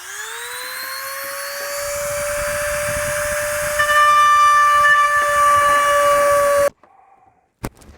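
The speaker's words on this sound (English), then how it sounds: "So I'm gonna use my rotary to make the hole." Rotary tool cutting a hole in a plastic mud guard on a RAM 1500, a high whine that rises as it spins up, holds steady with grinding noise, then stops abruptly, followed by brief faint clicks.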